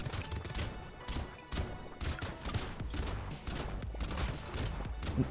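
Rocket launcher explosions in the video game Brotato crash and thud in rapid, overlapping bursts, a steady barrage of game blasts with no voices.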